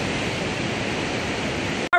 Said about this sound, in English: so these are the two waterfalls, Barnafoss and Hraunfossar.